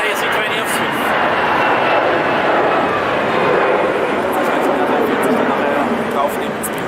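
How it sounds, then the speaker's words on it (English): A Swift Airbus A320 at Zurich Airport produces a steady, loud jet engine roar that holds evenly throughout, with faint voices audible underneath. "But first, let's see this A320 of Swift."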